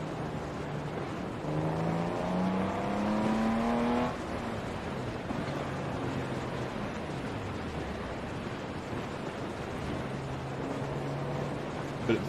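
Small car's engine in Forza Horizon 4 revving up in a rising whine for a few seconds, then settling into a lower steady drone over a busy background.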